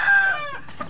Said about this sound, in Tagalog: Ang tawag niyan, bantam.